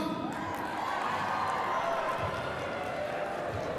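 Crowd cheering and shouting in a high school gym during a basketball three-point contest, a steady dense roar of voices that holds at the same level throughout.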